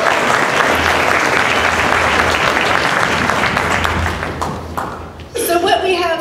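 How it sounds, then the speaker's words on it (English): A school concert audience at a winter orchestra showcase gives the musicians a dense, loud round of applause that stays steady, then tapers off as a voice begins speaking near the end. "Give them another round of applause."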